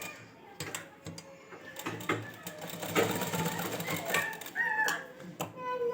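Sewing machine stitching a straight decorative line on pajama fabric, a quiet rapid mechanical whirr with short bursts and pauses, heard close up while someone talks.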